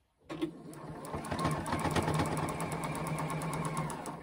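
A sewing machine runs steadily while back-stitching to lock the end of a seam on a chick-shaped pincushion, a continuous close mechanical whir with rapid even needle ticks throughout and no talk.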